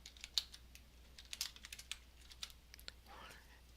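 Light typing on a computer keyboard in a quiet room, a quick irregular run of soft key clicks over a low steady hum, with a faint breathy sound near the end.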